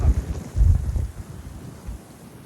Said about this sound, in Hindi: यहाँ पे तो और ज़्यादा तेज हवा चल रही है।